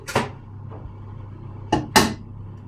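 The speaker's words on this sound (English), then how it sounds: "When you knock your egg like this, by the time you open your egg, you pre-open it before you turn it over" Eggs are knocked against a hard edge in a kitchen while making a Jamaican Christmas cake, giving three short, sharp taps: one, then a pause, then a quick close pair.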